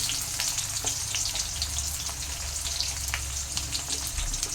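Chopped onions and tomatoes fry in a pan for a chicken dish, giving a steady, close sizzle with faint crackles and light stirring throughout. No voices are heard.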